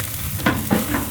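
Sausages sizzle on the hot grill of a pizza and barbecue oven, a close, constant hiss of fat with a couple of brief louder crackling flares.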